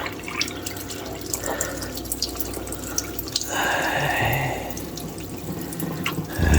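Water running from a newly installed reverse osmosis filter system, a steady trickle and splash into a sink that swells into a fuller pour midway, heard close with no talk.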